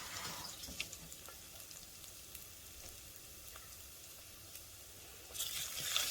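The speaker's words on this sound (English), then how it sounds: "As my ginger is cooking" Ginger with cumin, mustard and fenugreek seeds frying in hot oil, a faint steady sizzle with scattered small pops and crackles that swells louder at the end.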